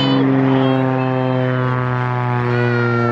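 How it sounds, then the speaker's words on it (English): A propeller airplane flies low overhead near a snowy Alaskan trail, its loud, steady, harmonic engine drone dominating throughout and slowly shifting in pitch as it passes. "did you hear that airplane?"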